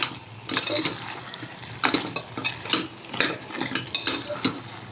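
Spices including ground cumin being stirred into goat head curry in a pan, a steady sizzle with repeated scraping strokes of a spoon at close range, no talking.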